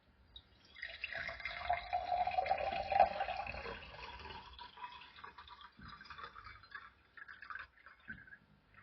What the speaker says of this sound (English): I'm just going to pour in 250 grams, which is exactly 250 millilitres